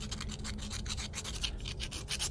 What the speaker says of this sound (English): I'm going to use a round file. It's a round jeweler's file,